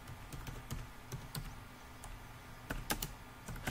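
Fingers tap on a computer keyboard while a web page is being edited, a close, quiet run of uneven key clicks with short pauses and a brief burst near the end.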